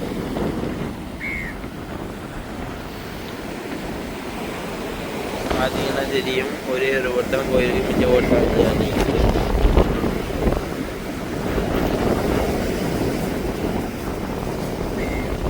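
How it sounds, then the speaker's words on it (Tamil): Sea waves and gusting wind on the coast at Jaffna during a low-pressure spell, a rough continuous wash with wind buffeting the microphone while someone talks over it. "ஒவ்வொரு அலையும் பெரிய சுனாமி வரைக்கும் வந்துட்டு இருக்குது இந்த கடலுனால"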